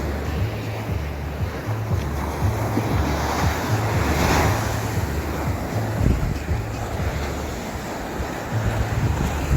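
Ocean waves at Playa Alicia beach in Sosúa, Dominican Republic, with rough water surging steadily and continuously, loud and close, mixed with wind buffeting the microphone.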